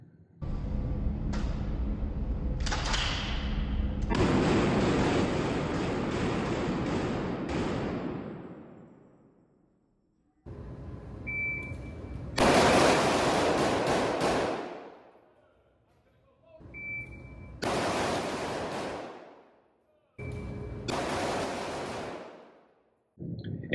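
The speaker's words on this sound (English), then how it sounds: "Here is me shooting an AR-15" AR-15 rifle shots fired on a range, a handful of sharp, loud blasts separated by pauses, each followed by a long decaying roar of echo; no talk over them.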